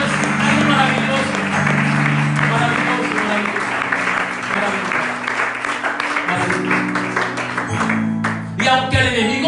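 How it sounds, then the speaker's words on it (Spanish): A church congregation applauds, a dense sustained wash of clapping close and loud, mixed with tonal music or voices running underneath and rising near the end. "hay que darle un aplauso al Señor"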